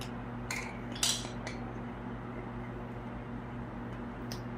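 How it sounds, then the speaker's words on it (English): A spoon stirs turkey meatballs in a pot with a few faint metallic clinks and scrapes near the start over a steady low background hum. "You can use the same spoon to just stir that up just a little bit."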